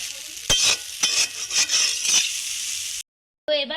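Chow mein is stirred and fried in a wok, with bright sizzling and several scraping, clinking strokes of a utensil, close and fairly loud, ending in a short pause before a brief voice.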